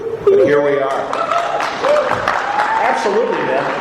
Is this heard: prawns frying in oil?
no